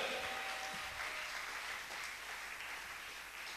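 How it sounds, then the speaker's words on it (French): Church congregation applauding the Lord during a worship service, a steady wash of many hands clapping at once, dense and sustained, fairly distant and easing off slightly toward the end. "Est-ce qu'on peut acclamer le Seigneur?"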